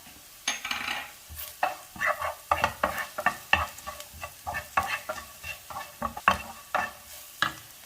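Onions with turmeric powder sautéing in a pan, a close series of rhythmic spatula scrapes and stirs over a soft sizzle, with no talk.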